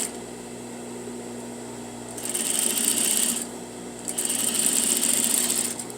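A sewing machine edge-stitches single bias binding, running in two steady bursts of whirring stitches with a pause between them, close and loud over a low background hum.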